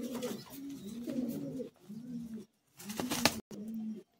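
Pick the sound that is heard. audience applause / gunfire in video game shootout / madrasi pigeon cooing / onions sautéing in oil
madrasi pigeon cooing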